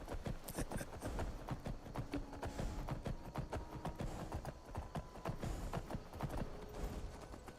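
Horse hooves clip-clopping in a modded Skyrim game, a steady quick rhythm of hoof strikes close by and fairly quiet, with little else over it.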